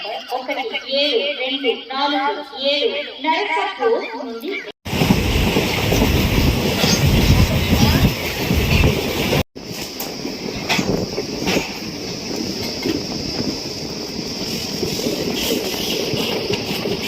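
A voice announces over a station speaker at Dharmavaram Junction, then a loud, close passenger train rumbles and clatters steadily along the tracks into platform one with a constant roar of wheels.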